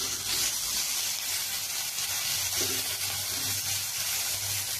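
Capsicum pieces frying with salt in a pan, giving a steady, soft sizzle that runs unbroken and fairly quiet from start to finish with no voices over it.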